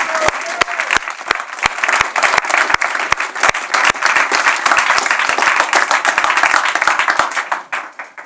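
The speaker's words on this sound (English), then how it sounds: "I think we have to give them a huge round of applause to everyone" Loud, sustained applause from a conference audience for competing teams, dense hand clapping over the full stretch with scattered cheers, tapering off at the end.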